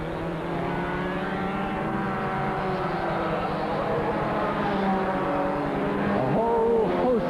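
Several Fiat saloon cars accelerate out of a corner onto a long right-hand bend at a 1979 Phoenix Park production saloon race, a continuous layered engine drone rising in pitch, heard from a distance with a commentator talking over it.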